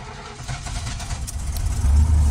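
An old, mouse-infested marketplace car that leaks oil cranks and catches, its low engine rumble building in loudness over a couple of seconds, close and alone.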